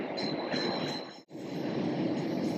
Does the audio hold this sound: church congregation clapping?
no